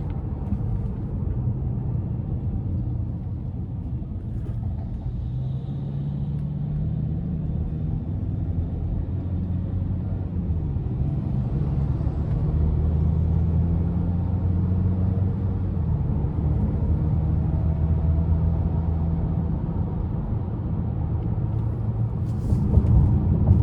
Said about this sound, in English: I'm going to give it a pull getting on the interstate